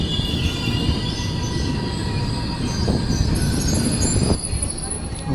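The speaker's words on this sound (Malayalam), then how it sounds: "തിരുവനന്തപുരം ന്യൂ ഡൽഹി കേരള എക്സ്പ്രസ് ആണത്." The Thiruvananthapuram–New Delhi Kerala Express rolls past close by, a dense roar of wheels on rail with screeching squeal and steady rumble throughout.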